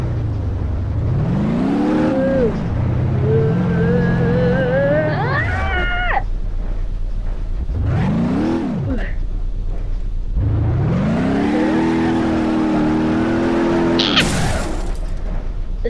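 Car engine in the BeamNG.drive driving game, an overpowered vehicle revving in repeated rising and falling sweeps, loud and close throughout, with a sharp burst near the end.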